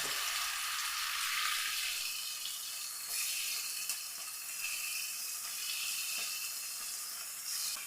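Sardines fry in oil in a pan, a dense steady sizzle with occasional soft crackles, fairly quiet and unbroken throughout, and a brief low rumble near the start.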